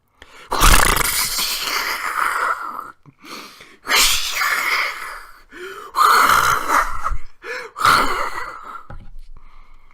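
A voice imitates a roaring, crackling forest fire with bursts of hissing, breathy rushes and pops, in several loud surges separated by short pauses.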